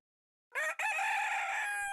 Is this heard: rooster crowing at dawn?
yes